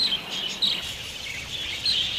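A budgerigar chirping, with a few thin high tweets over a soft steady background, faint and close, with no speech.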